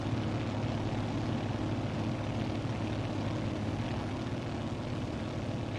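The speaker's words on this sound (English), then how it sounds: "Really cool sound there with the flaps." A steady, loud drone fills the cabin of a Grumman Goose twin-engine amphibian in Microsoft Flight Simulator as its flaps extend to 30 degrees on approach, broadband engine and airflow noise holding constant without any distinct break, and nobody speaking.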